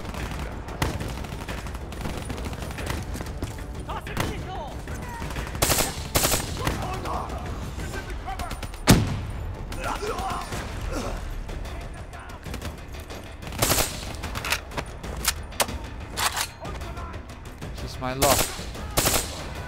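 Gunfire in the shooter Call of Duty Black Ops 3, with repeated automatic bursts and single shots over a continuous game soundscape, loud and close throughout.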